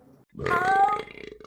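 A person burping after eating: a single loud, close, voiced belch rising after a brief murmur, then trailing into a few softer throaty pulses.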